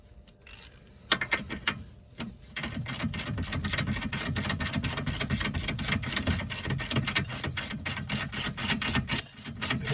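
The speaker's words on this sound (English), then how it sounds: "So we have a ratchet for a 17." A ratchet turning a 17 mm nut on a Nissan Leaf track rod end, a close, fast run of clicking pawl strokes with brief pauses, steady and mechanical, with no talk.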